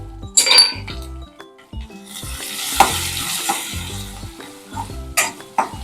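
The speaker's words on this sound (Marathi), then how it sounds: "तोपर्यंत मस्त खमंग आपण परतून घेऊया फोडणी" Garlic, green chilli and asafoetida sizzle in a hot oil tempering while a spoon stirs and clinks against the pan in irregular strokes, close and steady with no talking.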